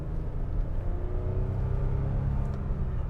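A 2017 Lexus ES 350 with its V6 engine idles steadily, a continuous low rumble with a faint tonal hum, close and even throughout with no other sounds.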